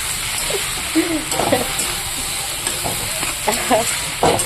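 A spoon stirs curry in a pan after coriander leaves go in, with scraping strokes and soft sizzling close by, plus a few faint voice-like sounds in the background.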